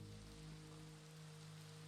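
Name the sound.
rain falling in the video game Minecraft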